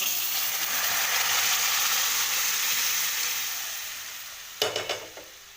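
A turmeric mixture for khara pongal sizzles and fries in a pan with a steady bright hiss that slowly fades, then a few quick stirring scrapes near the end.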